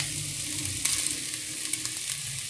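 Onion hitting a hot pan of well-browned pork loin for a creamy pork stew, giving a steady close sizzle with a few light clinks of a utensil stirring, no voices.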